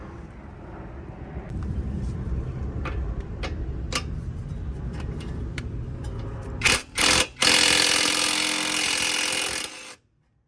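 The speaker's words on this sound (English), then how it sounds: "I'm gonna take these two 10mm bolts out" Hand tools click and tick on 10mm bolts during a brake upgrade on an Acura TSX, then a loud power tool whirs for a few seconds before cutting off.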